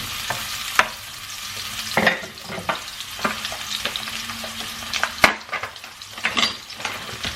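Chicken marinated in oyster sauce is sautéed in a pan. A continuous sizzle runs throughout, broken by frequent sharp scrapes and clacks of a utensil stirring against the pan.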